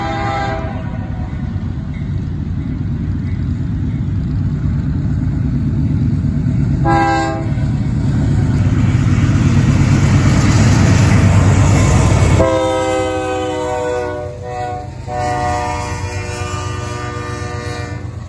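Westbound BNSF locomotive 4637 passes close and loud, its rumbling engine and rolling wheels sustained throughout, with several long horn blasts sounding at the start, around seven seconds, and again from about twelve seconds on.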